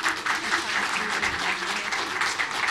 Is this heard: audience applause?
yes